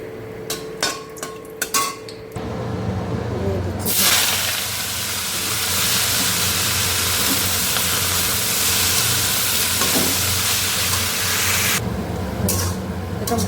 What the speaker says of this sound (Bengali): এই তেলের মধ্যে গোটা শুকনো লঙ্কা ভেজে নেবো